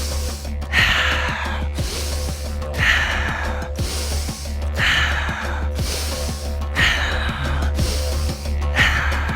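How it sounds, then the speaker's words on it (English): A person takes deep breaths during a breathwork session, drawing air in through the nose and letting it out through the mouth. About five strong, airy cycles repeat in a steady rhythm, close up over a low background hum, with no voices. "breathing deeper on inhale, no force on exhale. First into your nose, then out of your mouth"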